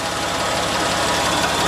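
A Porsche 911 996 C4S engine idles steadily and close by, a continuous even rumble with no rattles and no voices.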